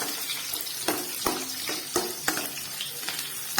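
Garlic and curry leaves frying in hot oil for an onion tamarind curry give a steady close sizzle, broken by sharp spoon clicks and scrapes every half second or so as the pan is stirred.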